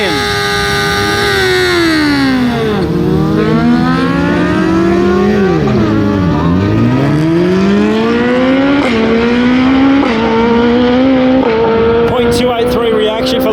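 A Honda motorcycle and a rival machine launching off the start line at a bike-night drag race, engines screaming through rising gear changes, loud and close, with an announcer talking over the roar.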